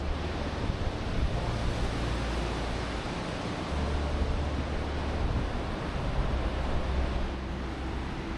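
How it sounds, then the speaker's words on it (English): Big surf rolls and crashes on the beach at Pacific City, Oregon, a continuous loud roar of breaking waves with wind buffeting the microphone throughout. "The beach is just so calming, so relaxing, even though there are raging waves."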